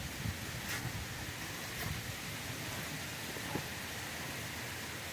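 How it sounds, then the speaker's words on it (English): Rain falling outdoors beside a 1994 Ford Ranger being worked on, a soft, steady patter with occasional louder drops and small knocks, fairly faint and with no talking. "It's getting ready to rain on me, and I'm not in my garage. Oh, it is raining."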